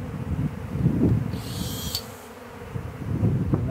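A honey bee swarm buzzes steadily inside a trap, a dense low drone that dips briefly midway, with a brief high hiss partway through.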